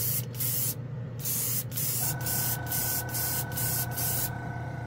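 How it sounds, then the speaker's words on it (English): An airbrush sprays Mr. Color GX paint in a series of short hissing bursts separated by brief pauses, close and fairly loud, over a steady compressor hum. "The airbrush is really efficient."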